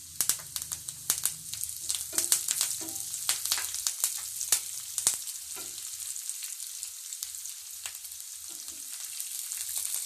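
Curry leaves and cashew nuts spluttering in hot oil for a spicy chicken dish: a close, bright crackle with sharp sputtering pops, busiest early and then settling into a steadier sizzle, no talking.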